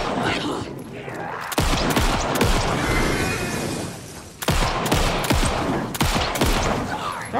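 Pistol gunfire in Alan Wake 2, a rapid string of loud, sharp shots in two bursts separated by a brief lull, with a dense, echoing game soundscape beneath.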